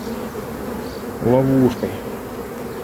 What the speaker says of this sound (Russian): как сейчас у меня упала куча пчел